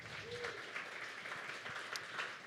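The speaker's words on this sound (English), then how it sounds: "How about a round of applause for the lineup?" Audience applause at a PubTalk evening event in Central Oregon, a steady wash of many hands clapping at moderate distance and fairly faint, with no talking over it.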